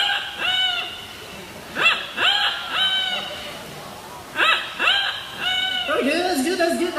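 A parrot imitates a rooster's crow at a bird park show in Singapore, giving several short rising-and-falling calls in two clusters, moderately loud and close, with faint background noise.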